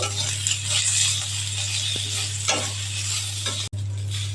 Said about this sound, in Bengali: বেগুন ভেজে নেব।